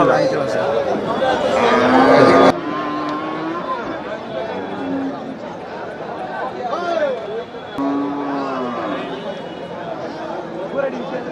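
Dairy cattle at a village cattle market in Karimangalam low and moo repeatedly amid constant crowd chatter and background noise, with several drawn-out calls from nearby animals.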